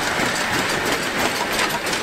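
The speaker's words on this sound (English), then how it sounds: "It is an old-fashioned steam engine locomotive" An old-fashioned steam locomotive running a scheduled passenger service in Russia's Tver region gives a dense, steady mechanical rush and rumble, loud and continuous, with faint rail clatter.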